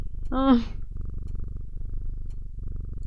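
A cat in the game Strange Antiquities gives a short bright mew, then a steady low purr rumbles on for a few seconds as it is petted, close and alone.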